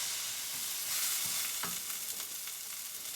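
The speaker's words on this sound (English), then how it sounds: "Go ahead and throw in all the vegetables, the onions, carrots, garlic, and the mushrooms, and cook for about 7 minutes until they are slightly brown." Onions, carrots, garlic and mushrooms frying in olive oil, a soft, even sizzle heard close and alone, with a faint stirring scrape partway through and no speech.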